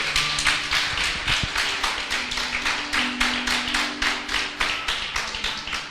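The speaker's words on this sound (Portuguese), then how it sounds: "Quantas pessoas aplaudam Jesus?" A church congregation applauds in a fast, steady rhythm of dense claps that fills the whole stretch, loud and close, with no talking over it.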